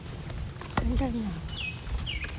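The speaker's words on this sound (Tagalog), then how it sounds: "Mga ibon." Small birds chirp near a lake along a walking path, a few short tweets and a bright descending call heard faintly over a low background hum, with a brief thump partway through.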